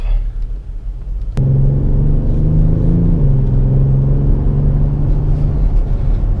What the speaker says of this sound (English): we will put the car to sport and head off